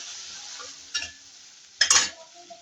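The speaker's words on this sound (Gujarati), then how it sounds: "બધું બરાબર મિક્સ કરી લઈશું" Spiced moringa seeds get stirred in a pan, with a faint background sizzle broken by two short scraping spoon strokes, the second louder and longer, heard close and without voices.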